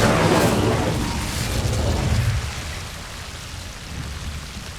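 An Incendio fire spell cast in the video game Hogwarts Legacy bursts out with a loud fiery whoosh and deep rumble, then fades into a crackling, hissing tail over a few seconds.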